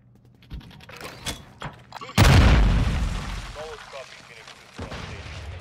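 A bomb blows up in a Search and Destroy video game match: one sudden loud blast that decays into a rumbling tail over a couple of seconds, with players talking over a headset mic before and after.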